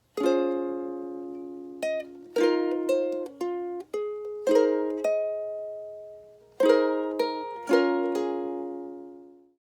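Ukulele fingerpicking of a song, individual plucked notes and small chord strums ringing out in a gentle, uneven melody, close and clear, no voices.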